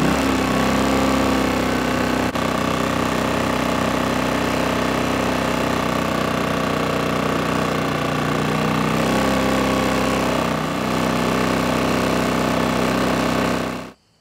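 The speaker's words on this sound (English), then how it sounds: "Let's go ahead and take a listen to the generator actually running." A portable camping generator runs steadily at close range, its engine drone shifting noticeably partway through as the setting changes from eco mode to high, then cutting off abruptly at the end.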